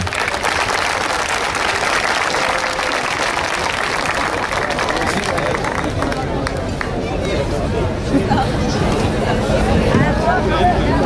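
Steady applause from a crowd fills the whole stretch, with a murmur of voices mixed in and no break in the clapping.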